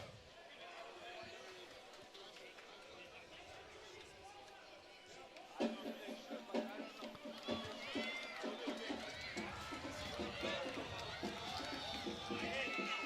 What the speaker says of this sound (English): Great crowd on hand tonight.